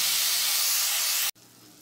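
Seasoned meat sears in hot oil in a pan, a loud steady broadband hiss close by that cuts off abruptly near the end, leaving a quieter low background.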